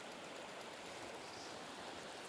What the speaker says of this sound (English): In the small village of Snärta, the river's constricted and the current suddenly becomes faster.